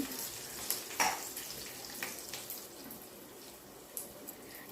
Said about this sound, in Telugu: ఈ తాలింపు అంతా వేగింది కదా ఇప్పుడు ఇంగువ వేసుకోవాలి